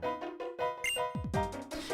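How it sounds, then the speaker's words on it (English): A bell rung at the Celestial Tower in the game Pokémon Black gives off a series of bright, ringing tones with shimmering overtones. Several struck notes follow one another, with a lower swelling tone near the end. "Guess we get to ring the bell here."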